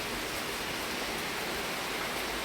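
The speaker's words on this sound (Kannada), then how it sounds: "ಮಳೆ ಬೇರೆ ಜೋರಿದೆ" Heavy monsoon rain falls in a dense, even hiss that fills the space without a break. The downpour is steady and enveloping, with no voices over it.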